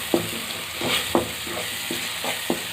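A spoon stirs egg and macaroni in a sizzling frying pan, giving a run of sharp scraping strokes at an even pace over a steady hiss of frying, close and fairly loud.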